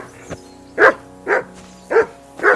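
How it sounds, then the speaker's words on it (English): A dog barks four times at an even pace, loud and close, with a softer yip before the first bark, in the medieval Kingdom Come Deliverance 2 video game. "Whistle at that mutt of yours to stop barking!"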